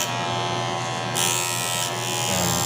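A WMARK NG 119 electric hair clipper buzzes loudly and continuously close by, running rough and noisy for lack of oil, its rattling motor whine shifting slightly in pitch.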